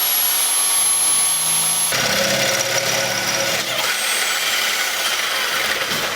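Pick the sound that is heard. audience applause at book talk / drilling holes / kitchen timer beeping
drilling holes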